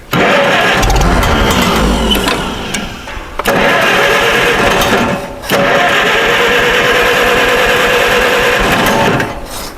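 Farmall H tractor engine cranking and catching outdoors in wind, a loud rough sputtering run broken by two short dips before it settles into a steady, close, mechanical chug.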